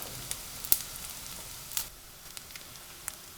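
Pieces of tempeh fry in a pan with a soft, continuous sizzle and crackle, broken by a few faint pops and light scrapes, with no voices.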